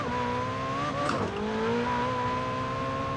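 Ferrari 488 Pista engine in Forza Horizon 4, a steady high revving drone with a brief dip and shift near the middle, then holding loud and continuous throughout.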